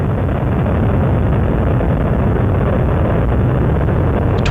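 Space Shuttle Columbia's three liquid-fuel main engines roar steadily during launch from Complex 39A, a loud, unbroken, broadband rumble with a heavy low end, sustained and unchanging for several seconds with no voices.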